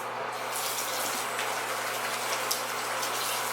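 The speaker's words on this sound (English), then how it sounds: "wash my hands" Running water gushes steadily from a tap as hands are washed beneath it, a close, continuous splashing rush with no one speaking.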